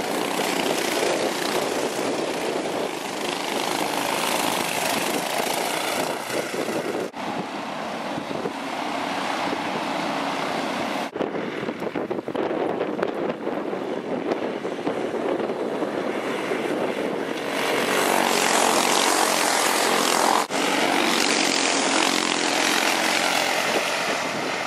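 A race car laps a track, its engine a steady, dense roar that swells and fades slightly as it passes, continuous throughout with no talk.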